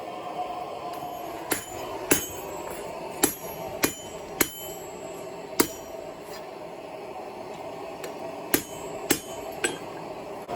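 A hammer rings sharply on metal over an anvil while forging a garden butterfly, about a dozen bright, bell-like strikes at irregular intervals, close and loud against a low background hum.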